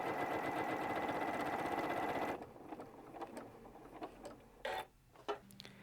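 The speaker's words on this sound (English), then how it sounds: "Start sewing." Janome 9410 sewing machine stitching quilt patches, a fast steady mechanical whirr for about two seconds, then stopping and leaving quiet handling clicks and rustles.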